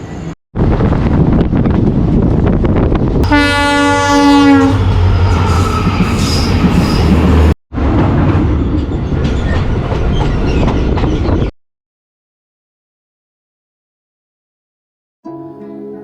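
The Silchar–Bhairabi passenger special rumbles loudly close by at a junction, with a strong horn blast and heavy wind buffeting, then cuts to silence before a brief final burst.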